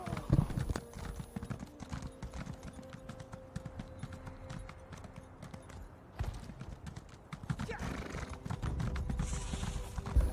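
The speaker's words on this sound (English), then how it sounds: "my horse is a bit slow" Horse hooves clip-clop in a fast steady rhythm while riding a mount in Elder Scrolls Online, the close repeated strikes continuing throughout with a brief lull partway and someone talking faintly underneath.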